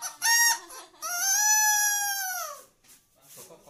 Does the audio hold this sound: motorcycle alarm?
no